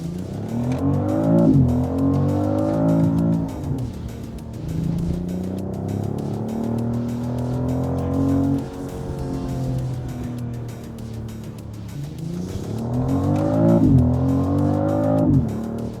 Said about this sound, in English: All this crackles coming out of the exhaust.